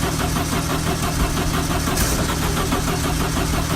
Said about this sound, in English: I'm just cranking it from the accelerator cable.